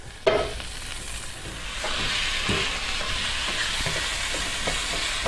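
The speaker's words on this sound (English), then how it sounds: "go back over here to the fryer here and put the bacon in with the tater tots" Bacon and tater tots frying in a deep fryer give off a steady, loud sizzle and hiss, with a sharp splash as food goes in and faint clinks of stirring, no talking.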